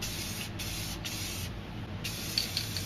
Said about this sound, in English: Then I'm going to continue and spray some black over here for the mountains.